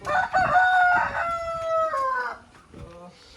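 Chickens and a rooster on a poultry farm, with a loud drawn-out crow ringing out near the mic over clucking flock noise, fading to quieter clucks at the end.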